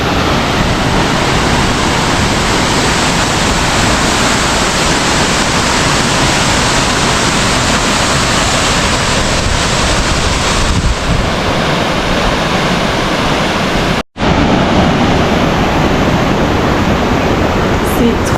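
Bras Rouge waterfall on Réunion roars as a steady, loud wash of falling water, broken by one brief dropout near the end.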